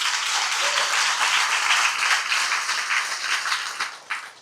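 An audience claps at a municipal election campaign rally in Morne-à-l'Eau, a dense, loud wash of applause that holds steady and then tapers off toward the end.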